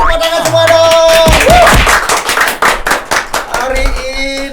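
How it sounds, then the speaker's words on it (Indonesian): Brief burst of applause from a podcast audience near the start, then people talking loudly over it as the clapping fades out. "Tepuk tangan semua dong."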